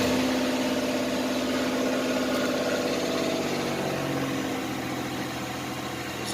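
A Chevrolet Lumina Eurosport's 3.1 V6 idles roughly with a steady, fairly loud mid-low engine drone and uneven sputtering, running on alone with no talking, the engine suspected of a fuel pressure regulator problem.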